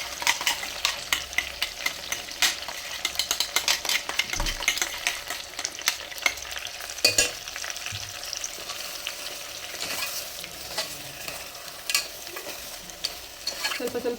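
Masala for ennegayi curry, a traditional stuffed-brinjal dish, frying and sizzling in a pan while being stirred with repeated scraping strokes, a steady close hiss under irregular clacks, with no talking.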